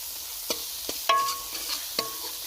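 Coriander powder is roasted in a pan while making sarson ka saag, a faint sizzle under several sharp metallic clinks and scrapes of a spatula stirring, spaced irregularly.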